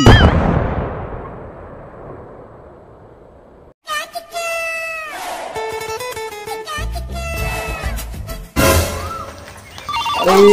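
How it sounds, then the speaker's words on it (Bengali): A mobile phone ringing repeatedly, its tonal electronic ringtone sounding in bursts after a loud impact and decaying rumble, with a noisy burst near the end. "এত ঘন ঘন কিরা ফোন দিচ্ছে।"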